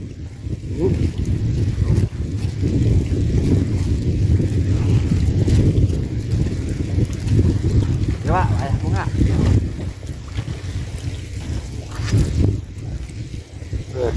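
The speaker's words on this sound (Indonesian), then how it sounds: "anginnya kenceng." Strong wind gusting at a neglected fish pond, buffeting the microphone with loud, uneven low rumbling throughout, easing slightly toward the end.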